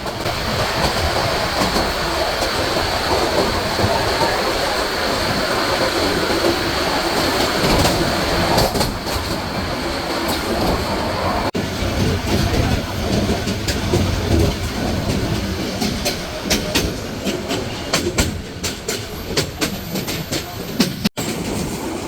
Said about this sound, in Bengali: নির্ধারিত সময়ে ট্রেনটি বিমানবন্দর রেল স্টেশন ছেড়ে যায়